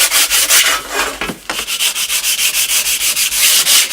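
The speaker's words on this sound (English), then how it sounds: "You can just lightly sand the edge, and that'll take the burrs off of it and make it nice and smooth." Sandpaper is drawn lightly along the edge of a NuTone Deluxe 8-inch patio speaker station grill to remove burrs, making close, steady, rhythmic rasping strokes with no talking.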